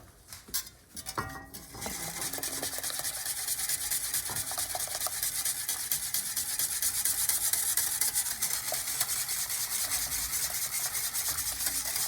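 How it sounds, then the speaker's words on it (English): Brisk, rhythmic whisking scrapes against a pot as flour is stirred into boiling water to thicken poutine gravy, continuous and close after a few clinks at the start. "start whisking it so it thickens up."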